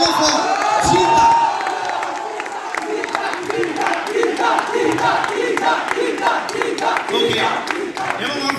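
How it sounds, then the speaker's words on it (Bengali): A crowd at a film trailer launch event cheers and shouts loudly, a dense, sustained roar of voices with rhythmic bursts that may include clapping, filling the whole stretch without pause. "একটা জোরে জোরে জোরে চিৎকার"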